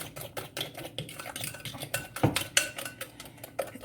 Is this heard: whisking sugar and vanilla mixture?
yes